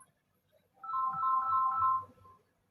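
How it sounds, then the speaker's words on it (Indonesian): A phone ringtone plays a short bright melodic tone for about a second, moderately clear against a quiet background. "aduh ada telepon teman-teman."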